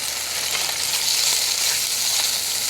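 Full English breakfast frying in a small titanium mess tin, a steady close crackling sizzle running throughout with no talking.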